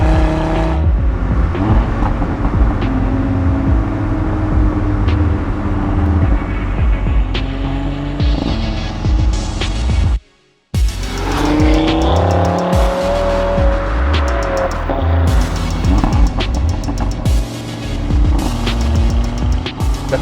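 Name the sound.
Audi RS3 five-cylinder engine driving through bends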